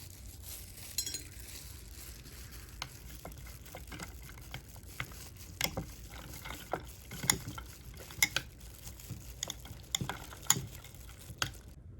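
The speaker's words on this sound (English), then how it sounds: "Now I have finished mixing all of the cotton balls into the solution" Cotton balls being stirred into a nitrating acid solution in glassware, with soft liquid swishing and scattered clinks of a utensil against glass, close but faint and irregular, with no talking.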